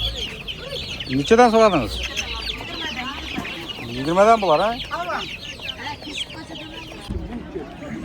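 Chickens and chicks cluck and squawk at a busy poultry market, with loud rising calls in bursts nearby and people bargaining over prices in the background.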